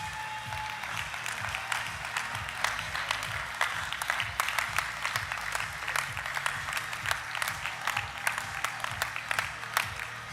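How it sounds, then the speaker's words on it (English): A large audience at a general session in Washington DC applauds the first-time President's Honor Club achievers: steady, dense clapping that carries on evenly for about ten seconds at moderate volume, with little talk. "let's give another round of applause for our first-time President's Honor Club"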